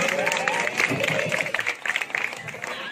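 A crowd applauding and cheering steadily, with clapping filling the space and a few voices mixed in.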